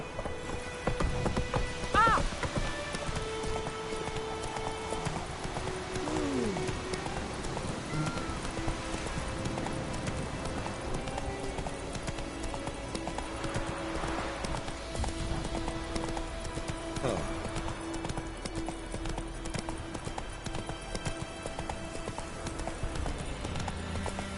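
Roach the horse trots in a video game, making steady rhythmic hoof clip-clops over a constant rain-like hiss, with a few tonal game sounds layered in and no pause in the footfalls.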